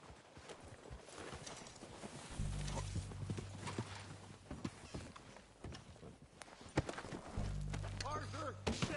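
Steady clip-clop of horses' hooves trotting nearby in Red Dead Redemption 2, with a horse whinnying and people talking over it amid background noise.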